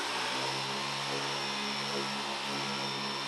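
An 18V Ryobi EZCLEAN power cleaner with a turbo nozzle sprays steadily, giving a continuous hissing rush of pressurized water with a constant motor whine, close and unbroken.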